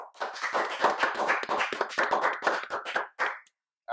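A round of applause and clapping from a live podcast audience, dense and steady for about three seconds before breaking off, then a brief final burst.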